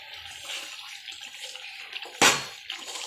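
Water poured from a vessel over mung beans to soak them, one short splashing pour standing out against a quiet background.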